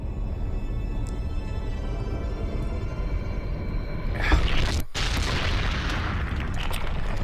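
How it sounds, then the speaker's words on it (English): An explosion in the video game Shadow of the Colossus: low rumbling ambience builds, then a heavy boom bursts midway, a brief gap of near silence follows, and the rumble resumes. "What a hell of a way to go, or to start the show. With an explosion."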